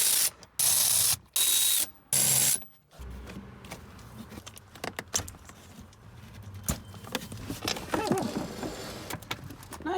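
A ratchet removing the bolts of a bucket seat from a BMW E36 318ti, with loud bursts of clicking followed by softer, irregular metallic clicks and shuffling of parts inside the car.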